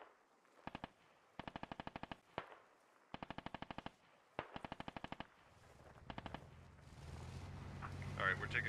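Automatic gunfire crackles in a military shooter video game, coming as several short, sharp bursts spaced apart, then a low engine-like rumble builds toward the end while voices talk over it.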